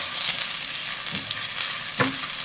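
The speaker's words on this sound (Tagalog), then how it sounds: "Magpainit na tayo ng mantika. Then, igisa na natin yung sibuyas." Onion sautéing in hot cooking oil in a pan, a steady close sizzle and crackle with a couple of brief stirring scrapes, no talking.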